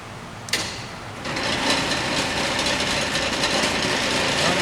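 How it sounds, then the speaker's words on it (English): A Kearney and Trecker No. 2 D rotary head milling machine spindle starts with a sharp click, then its motor settles into a loud, steady whirring hum with a bright mechanical whine that holds to the end. "Let's see if we can run this machine as it's sitting. Start the spindle."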